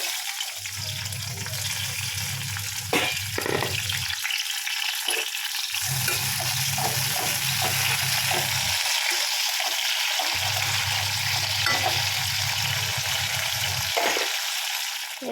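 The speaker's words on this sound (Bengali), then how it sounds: "দিয়ে দিলাম, দিয়ে একটু ভেজে নেবো।" Broad beans frying in hot oil, a steady close crackling sizzle throughout, with intermittent low rumbling bursts underneath as the pan is moved or stirred.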